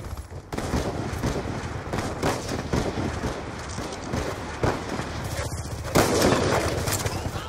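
Sniper rifle shots in a multi-team, sniping-only video game match: sharp, loud cracks over a dense, steady bed of game noise, with the strongest bursts near the start and again toward the end.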